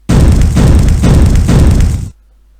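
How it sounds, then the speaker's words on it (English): A magical trap explodes in the video game Avernum 2, a loud, dense burst of noise that holds for about two seconds and then cuts off abruptly to silence. "There is an explosion."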